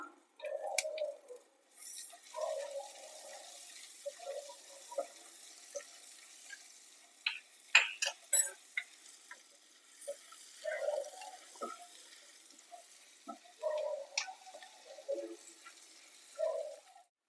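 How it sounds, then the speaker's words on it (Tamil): Chopped garlic and slit green chilies fry in a pan, giving a faint, soft sizzle broken by intermittent scraping and clinking stir strokes, quiet and close with no talk. "இப்போ இதில் பொடியாக கட் பண்ண பூண்டு, 2 கீறி வச்சிருக்கிற பச்சை மிளகாய் இதில் சேர்த்து நல்லா வாசனை வர்ற அளவுக்கு ஃப்ரை பண்ணிக்கலாம்"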